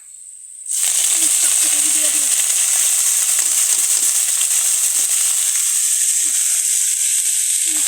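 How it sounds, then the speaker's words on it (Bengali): Greens dropped into a pan of fried onions burst into a loud, steady sizzle that starts abruptly and holds continuous hissing throughout, with faint clinks of stirring. "হালকা একটু আমার পেঁয়াজ ভাজা হয়ে গেছে এখন আমি শাক দিব এখানে এই যে শাকটা"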